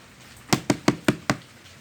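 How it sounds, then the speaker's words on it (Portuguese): Five sharp, evenly spaced knocks on a door ring out in quick succession, crisp and fairly close against a quiet background. "Eis que estou à porta e bato."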